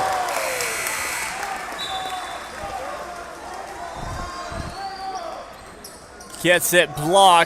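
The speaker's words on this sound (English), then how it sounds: "So you heard the cheer from the crowd" A crowd at a high school boys basketball game lets out a loud cheer that rises near the end. A commentator talks over the steady gym noise and bouncing balls.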